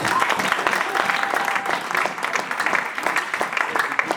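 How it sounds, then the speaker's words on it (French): A church congregation claps and cheers for Jesus Christ in sustained, dense applause that carries steadily throughout, with voices mixed into the crowd noise. "On acclame pour Jésus-Christ."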